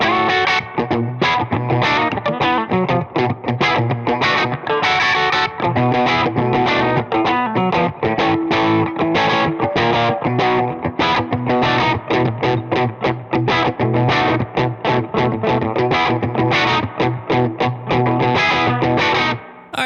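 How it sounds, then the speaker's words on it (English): Electric guitar driven through a Henry Amps Heritage H150 into a punchy overdrive, dense distorted chords and riffs played continuously at steady high level with no voice. "now I have a Heritage H150, and what was kind of hovering on the edge of distortion will now be a very,"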